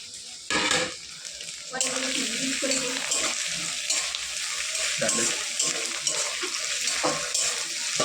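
Tomato and spices fry in oil in a pan for a chicken curry, a steady loud sizzle with stirring scrapes running throughout.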